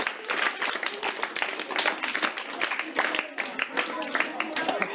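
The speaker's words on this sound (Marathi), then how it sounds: "टाळ्या वाजवा सर्वांनी।" A school audience applauds at a National Voters' Day event, a dense burst of many hands clapping steadily and fairly close for several seconds.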